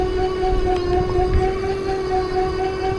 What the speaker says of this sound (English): Motor's a little loud back there.